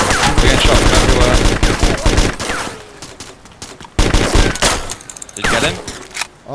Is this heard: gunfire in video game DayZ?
yes